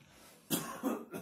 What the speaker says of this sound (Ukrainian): А чого ви кашляєте?